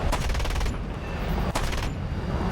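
An F-84G-21-RE jet fighter firing its machine guns in War Thunder air battles, loud rapid bursts of gunfire, one sustained burst, a brief pause, then another short burst over constant engine roar.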